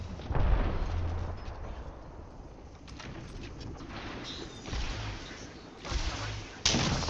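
Gunfire and explosive booms in the Apex Legends battle royale game come in several loud, heavy bursts spread through the clip over a busy, rumbling background.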